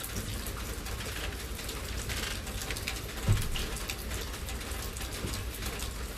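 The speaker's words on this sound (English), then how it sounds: "I hope the rain isn't too noisy." Steady rain falls outside, a dense constant patter on surfaces, with a pigeon cooing briefly in the background and no talking.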